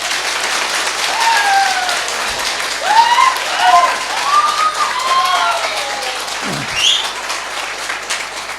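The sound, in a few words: audience clapping loudly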